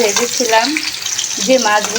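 Bitter gourd (karela) fries in a pan with a steady, soft sizzle, partly masked by a voice talking over it throughout.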